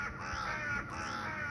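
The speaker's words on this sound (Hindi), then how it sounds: "फुल काला कवे है ये देखें" An all-black crow gives a harsh, rasping caw outdoors, two drawn-out calls in quick succession, fairly close and clear with no talking.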